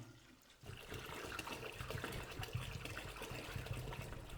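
After a brief quiet moment, about 4 litres of water pours steadily into homemade sugar distillate, a continuous splashing, trickling flow that stays close and moderately loud.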